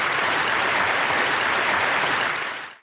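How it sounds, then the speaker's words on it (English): Podcast hosts clapping, a dense, loud burst of applause that holds steady for a few seconds and then cuts off abruptly. "That's why we're clapping."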